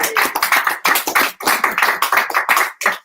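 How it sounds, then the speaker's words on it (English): An audience at an evening art gathering claps loudly and steadily, a dense close patter of many hands in bursts with brief dips. "Can we just do a big round of applause for everyone who's"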